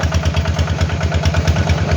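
Red farm tractor engine running after starting, a rhythmic low chugging thump with mechanical clatter, close and steady, no talk.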